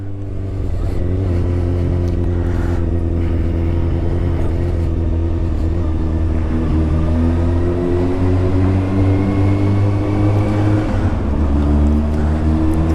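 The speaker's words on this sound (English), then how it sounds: "oh, listen to that, listen to that bike, and I'm not doing anything" A motorbike rides through a tunnel, its engine droning loud and steady with a deep hum and reverberant roar that shifts slightly in pitch as it holds speed.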